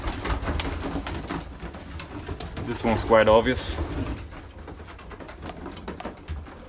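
Domestic pigeons coo in a breeding loft, a short soft burst of rolling coos standing out at mid-distance, with a person talking over and around it.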